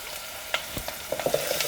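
Onion and garlic sautéing in hot oil, a soft sizzle under a few sharp spoon taps and scrapes against the pan, close and with no talking.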